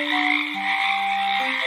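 A frog croaks in a loud, sustained, buzzing call that shifts pitch partway through, sounding close and alone with no talking.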